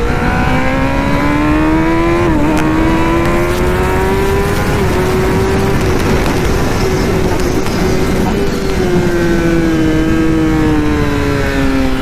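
Kawasaki ZX sport motorcycle at high speed, engine whining loud and close as it climbs through the revs with brief shifts between rising pitches, wind roar underneath, no talking.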